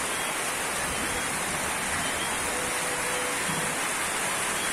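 Steady rain at nightfall over the Siloé hillside in Cali, Colombia, a dense continuous hiss that stays even and unbroken throughout with no voices.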